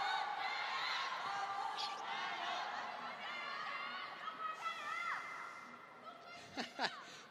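Table tennis fans in an arena at the Qatar Open men's final keep up a steady crowd roar and chatter, with whoops and rival cheering chants swelling near the end.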